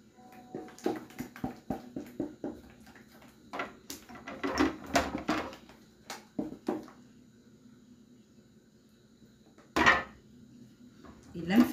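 A mixture is stirred by hand in a bowl for a dessert decoration, giving a run of quick scraping, clinking strokes with short pauses and a louder clatter near the end.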